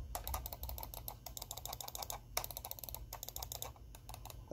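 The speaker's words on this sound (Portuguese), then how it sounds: "Mouse antigo, com clique." An old wired computer mouse with audible clicking buttons, recorded close to the microphone: rapid, irregular bursts of sharp little clicks in quick clusters, quiet and alone without any talk.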